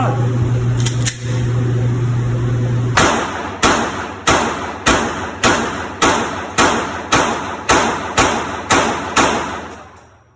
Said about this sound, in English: I'm going to run about 45 rounds right now, right through it